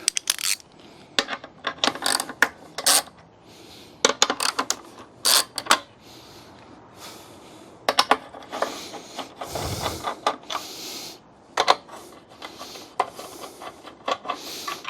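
Ratchet clicking in quick bursts while undoing bolts on a Yamaha YZF 125R during a service, with short spaced runs of sharp metallic ticks close by, separated by pauses and light handling clatter.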